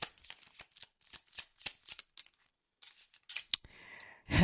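Tarot cards being shuffled by hand, a series of crisp riffling bursts in uneven rhythm with a short pause midway, close and fairly quiet with no talk.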